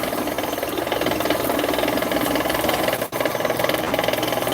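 An Avet 130 TRX fishing reel rattles with a fast, continuous ratcheting click while heavy 200-pound braided line pays out, steady and close, with one brief dropout near the end.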